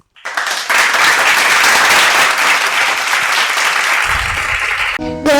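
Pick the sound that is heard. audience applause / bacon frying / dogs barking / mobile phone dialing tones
audience applause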